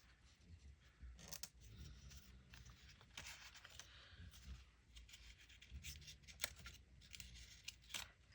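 Scissors trim paper for a handmade tab-bound journal, a few quiet snipping and rustling cuts at close range in a calm room, with no voices.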